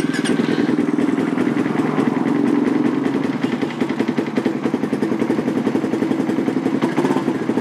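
A motorcycle fitted with an aftermarket MP one-way alarm runs right after being unlocked, its engine idling loud and close with a fast, steady, rattling pulse throughout, no talk over it.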